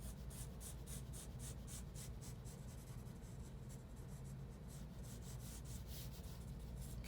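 A fine tip pencil drawing lines on paper, a soft close scratchy scribble in rapid repeated strokes that continue steadily throughout, with no talk.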